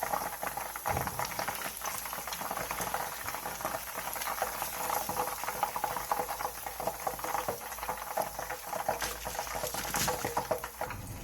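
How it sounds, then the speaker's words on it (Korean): Tangsuyuk pork pieces deep-frying in oil reheated over high heat, a dense, continuous crackling sizzle that stays close and loud throughout without talk. "다시 기름을 센 불에서 예열한 뒤 기름을 한번 빼놓은 탕수육을 넣고 노릇노릇하게 튀겨내주세요."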